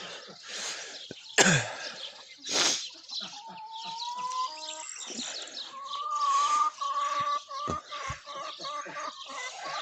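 Small birds chirp and sing in the early morning outdoors, with short tonal whistles recurring through the clip over a busy background, broken by a couple of loud close throat-clearing or coughing bursts.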